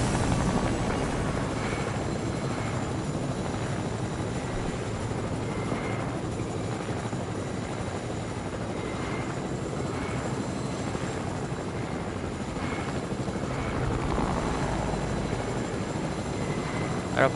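Helicopter in a video game: a steady, continuous rotor and engine drone holds at even loudness throughout, with no one talking over it.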